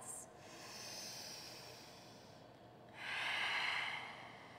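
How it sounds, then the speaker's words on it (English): Slow, deep yoga breathing during sun salutations: a long soft inhale, a pause, then a louder, hissing exhale through the nose, close and quiet with no talking. "Three breaths."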